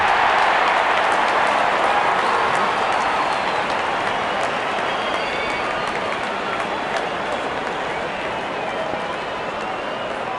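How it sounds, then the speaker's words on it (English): Stadium crowd in a cricket video game, a continuous broad roar of cheering at steady volume throughout. "Openers walking in and the crowd cheering in anticipation."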